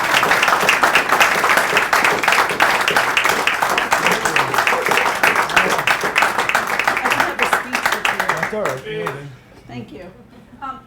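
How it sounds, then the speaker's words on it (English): Audience applause at an annual meeting of a public access TV station, dense steady clapping for about eight seconds that then thins into scattered claps and fades, with a voice speaking faintly as it dies out. "we'll give you a round of applause"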